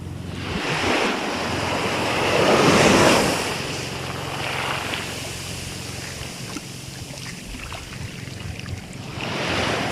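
Sea waves breaking on a rocky shore, a steady roar of surf that swells around the middle and again at the end, with wind buffeting the microphone throughout and no voices.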